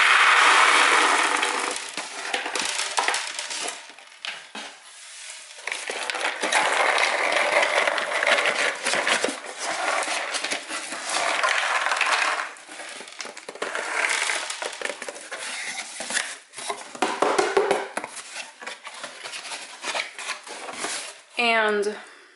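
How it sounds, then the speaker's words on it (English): Dried bean seeds tip out onto a table with a long crunching, rattling pour, loud at first and then in bursts and scatters, under intermittent talk. "So I'm gonna tip this out onto the table."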